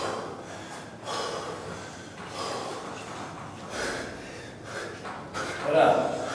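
Heavy, ragged breathing from someone in the middle of a hard CrossFit-style workout in a warehouse gym, with gasps and snorting exhales repeating close by, under a coach's shouted encouragement.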